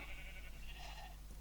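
A soft sheep bleat from Minecraft rises over a steady low hum, a single drawn-out call of moderate loudness with no voices.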